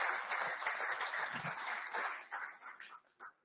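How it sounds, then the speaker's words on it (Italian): A crowd at a press conference greeting an Olympic athletes' delegation applauds, dense clapping that holds steady and then thins out and fades over a few seconds. "Gerardo Tecchi, facciamo un applauso anche a lui naturalmente."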